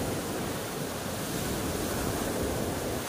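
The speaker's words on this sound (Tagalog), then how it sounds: "dahil sobrang lalaki ng alon" Large ocean waves surge steadily in a dense, unbroken roar of surf, with wind buffeting the microphone throughout and no voices.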